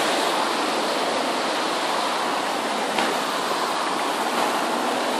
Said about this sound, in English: It's the 4th of July today, and it's raining.